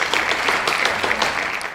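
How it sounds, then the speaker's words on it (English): Brief burst of dense applause from a group, steady clapping for under two seconds. "so round of applause"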